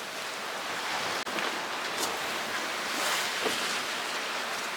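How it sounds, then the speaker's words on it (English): Big waves rushing and hissing around a sailing boat running along the shore toward Brighton in rough weather, a steady broadband wash of water and wind noise throughout, with one brief knock partway through. "We're surfing down some fairly big waves at the moment"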